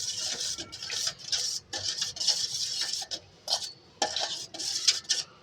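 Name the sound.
stirring dry yeast into milk bread mixture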